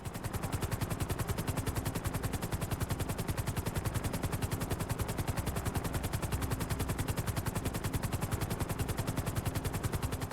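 A helicopter in GTA Online, heard as a loud, steady, rapid rotor chop that thuds without a break through the whole stretch. No one speaks.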